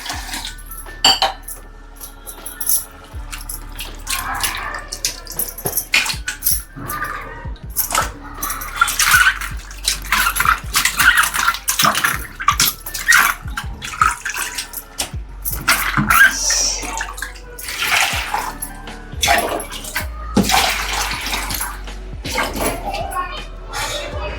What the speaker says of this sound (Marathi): दोन चार पाण्यामध्ये धुवायलाच लागतं तुम्हाला